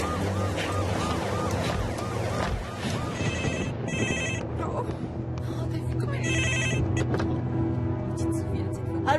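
A telephone rings in short repeated bursts, loud and close, while voices talk over it and around it in a busy scene.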